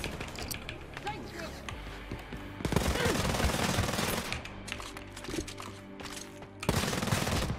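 Twin Uzis in Wolfenstein: Youngblood fire in rapid automatic bursts, loud and close, breaking off and starting again among in-game clatter and talk.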